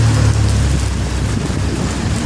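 Heavy typhoon rain pours down in a dense, loud, continuous roar with no pauses or talking.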